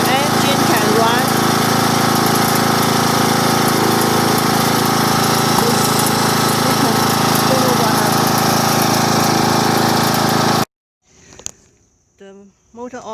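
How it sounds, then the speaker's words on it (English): An old lawn tractor engine runs steadily and loudly for about ten seconds, a constant mechanical drone with a buzzing, insect-like edge, then cuts off abruptly, leaving brief faint sounds. "While parking position, the engine can run."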